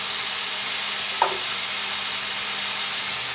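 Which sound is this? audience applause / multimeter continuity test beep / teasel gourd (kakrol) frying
teasel gourd (kakrol) frying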